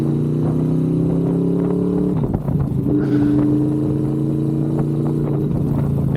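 A Honda VFR800 motorcycle pulls away, its engine holding a smooth, steady drone that dips briefly around a gear change and then carries on at a similar pitch, fairly close and without speech.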